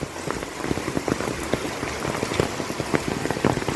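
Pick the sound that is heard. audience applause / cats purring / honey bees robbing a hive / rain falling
rain falling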